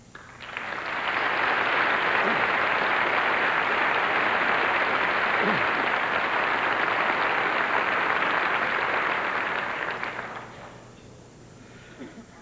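Sustained applause from an awards ceremony crowd honoring a NASCAR championship team, swelling in quickly and holding loud and even for about nine seconds before fading out.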